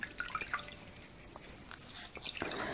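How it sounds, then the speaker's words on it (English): Water squeezed out of wet paper pulp for flourless papier-mâché clay drips and trickles in small irregular wet pops, quiet and close, with faint squishing between drops. "As you can see, I'm squishing as much of this water out as I can."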